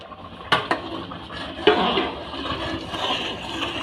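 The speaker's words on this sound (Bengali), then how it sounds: "ঢাকাটা এবার খুলে নেব" A lid lifted off a cooking pot of khichuri made with Gobindobhog rice: a couple of sharp metallic clinks and a scrape, followed by a soft steamy hiss and light clatter.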